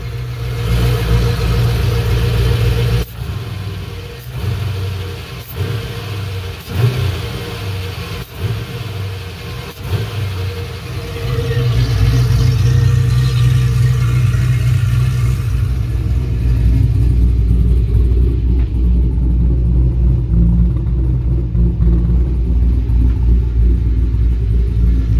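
BMW E38 740iL with a swapped LS V8 engine idling loudly and then revving under throttle blips, a deep, steady rumble with rising surges, close and continuous.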